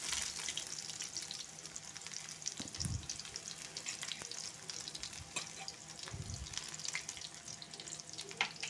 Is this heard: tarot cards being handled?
no